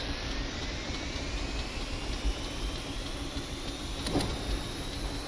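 A jet engine in the vehicle-building game Stormworks runs at a steady roar with a thin whine slowly rising in pitch, continuous and even in level, with a couple of faint clicks and no talking.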